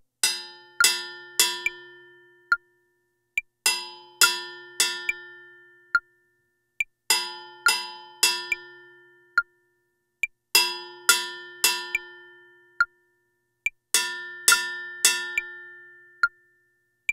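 Bembé pattern struck on timbales, sharp metallic strokes in a repeating bell-like figure, clean and close, each phrase separated by short pauses, with no talking.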